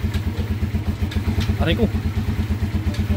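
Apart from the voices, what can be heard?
motorcycle engine running while shifting 5-speed transmission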